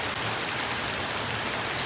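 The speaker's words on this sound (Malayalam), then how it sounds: "മഴയാണ് കേട്ടോ ഇനി നടക്കൂല" Steady, dense rain falling on a surface, a constant broadband hiss with no breaks.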